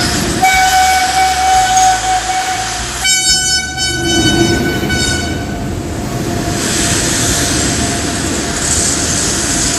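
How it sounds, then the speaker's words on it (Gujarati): A train at Vadodara railway station sounds a loud sustained horn for about three seconds, then the steady rumble of rolling railcars and station bustle carries on. "અલગ અલગ ટ્રેનો આવી, અલગ અલગ મુસાફરો આવ્યા."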